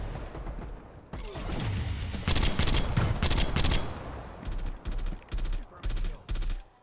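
Gunfire in the video game Call of Duty starts with sustained automatic fire, then breaks into five or six short, loud, evenly spaced bursts near the listener.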